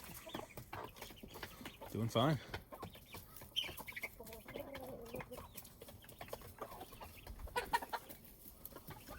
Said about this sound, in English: There's those two hen hatched chicks.